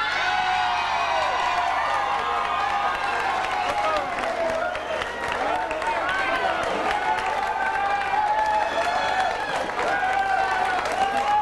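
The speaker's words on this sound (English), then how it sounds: "So give a big, big, enthusiastic round of applause" An audience at a festival pageant for contestants applauds warmly and steadily, with dense clapping mixed with cheers and whoops and busy crowd noise throughout.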